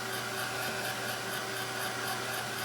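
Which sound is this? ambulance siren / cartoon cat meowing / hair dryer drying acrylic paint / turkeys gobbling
hair dryer drying acrylic paint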